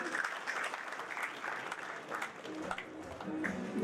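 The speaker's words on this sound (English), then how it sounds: "Can we have a round of applause for these captains," Audience at a US alumni reunion in Karachi applauding, a steady patter of many hands clapping from a moderately distant crowd, continuous throughout.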